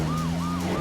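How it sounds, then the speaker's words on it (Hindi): Police car siren wailing in rising and falling sweeps over a steady engine hum, loud and close. "अरे वो देखो, पीछे पुलिस की गाड़ी"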